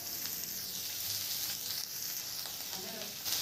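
A tadka of oil with fenugreek seeds, garlic paste, chopped green chilli, asafoetida and onion sizzles for baingan masala, a bright steady hiss that swells and fades, with no clear talking.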